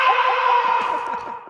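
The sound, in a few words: closing scream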